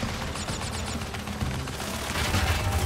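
Steady rapid shooting in Crash Bandicoot Warped, a continuous rattling stream of shots under game music and effects, moderately loud and unbroken throughout.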